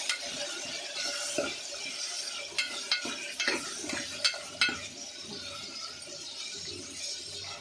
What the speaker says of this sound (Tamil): இஞ்சி போட்டு நல்லா சாட்டே பண்ணிக்கலாம்